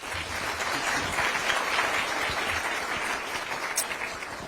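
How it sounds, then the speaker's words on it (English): An audience applauds Dr. Raja Mohan at a foreign policy talk, with continuous, even clapping filling the whole moment. "A round of applause for Dr."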